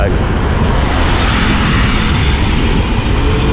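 Loud, steady roar of several motorbikes zooming past a rider on a road in Davao City, Philippines, with engine and wind noise filling the whole stretch, dense and unbroken.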